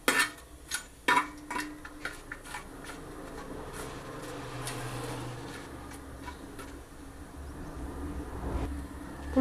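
Spoon stirring pulao spices in a metal pot, with several sharp scraping clinks at the start and softer scrapes and rustling afterward, close by, no talking.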